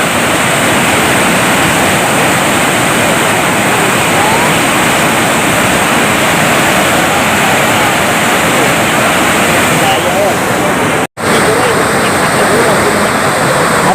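Flood water rushing over an overflowing bridge during a flood, a loud, steady broadband roar of torrential water that fills the whole stretch, briefly cutting out near the end.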